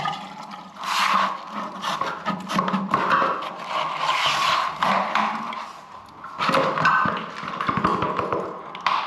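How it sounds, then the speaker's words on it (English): A 4-inch plunger works a blocked urinal U-bend in an office washroom, giving wet sloshing plunges and gurgling water in bursts, with scraping knocks between strokes, heard up close. "So I'm going to try and get the 4-inch plunger in there and we'll give it a little plunge."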